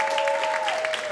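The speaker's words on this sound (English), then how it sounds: "So I want a round of applause to everybody that" Brief applause at a film premiere, a dense wash of clapping with a steady tone running underneath.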